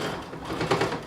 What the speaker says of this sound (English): we got the top of the dress hemmed around the armhole, around the neckline